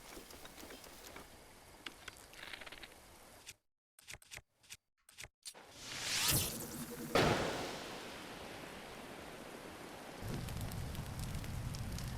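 Rain in the video game The Legend of Zelda: Breath of the Wild, around Zora's Domain, a steady hiss of falling rain with a brief dropout and a louder surge partway through.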